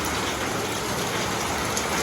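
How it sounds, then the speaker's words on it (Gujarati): Steady heavy monsoon rain falls continuously on a groundnut field, a dense even patter with no breaks and no voices. "અત્યારમાં વરસાદ ચાલુ થઈ ગયો"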